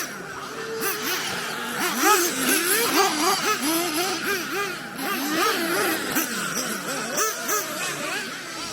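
Remote-control model cars run laps on a club circuit. Their high, whining motors swoop up and down repeatedly as they pass close by, with no speech heard.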